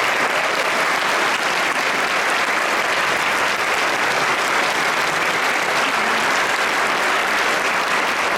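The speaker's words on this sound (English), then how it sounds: "How about another round of applause" A concert audience at a Coast Guard Band performance in New London, Connecticut, gives a sustained round of applause, dense and even clapping from a large hall crowd that holds steady throughout.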